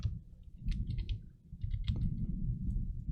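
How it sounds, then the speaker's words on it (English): Several light, crisp computer mouse clicks, including right-clicks, sound at uneven intervals over a low, steady background rumble. "Right mouse click, copy."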